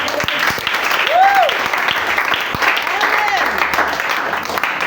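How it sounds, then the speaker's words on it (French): A church congregation claps and cheers in acclamation during a worship service, a dense steady applause with voices rising over it and a couple of sweeping vocal cries. "Donne une fois l'acclamation au Seigneur."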